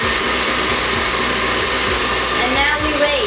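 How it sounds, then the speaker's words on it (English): An electric mixer whirs steadily and loudly at close range, its motor droning without pause and shifting slightly in pitch toward the end. "Now you can either mix it with a spoon or just put it in an electric mixer."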